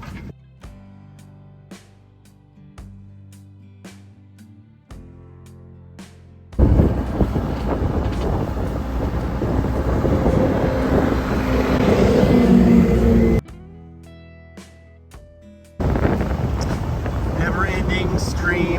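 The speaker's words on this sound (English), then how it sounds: "Never-ending stream of boats." Loud engine and rushing water noise swell as boats pass close by a sailboat towing a dinghy off Cape Coral, Florida, with quieter spells in between and some wind buffeting.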